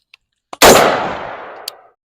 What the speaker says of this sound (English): I got a Glock 17 chambered 9mm.